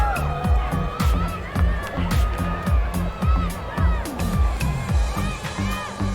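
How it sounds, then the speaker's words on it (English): A crowd cheers and chatters at a women's ski streetstyle final at Dew Tour in Copper, a steady loud roar pulsing with heavy rhythmic music beneath. "You can hear the crowd getting a little rambunctious out there"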